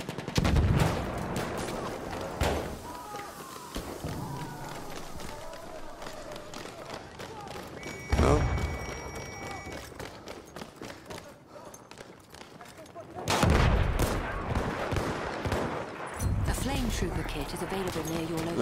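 Rapid gunfire from a weapon in an online shooter match, with repeated sharp bursts and running footsteps, loud and close. Surging intensity peaks in several volleys, with game noise and voices in the mix.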